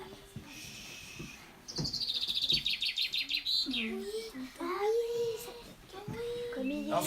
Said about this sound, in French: Le pinson des arbres.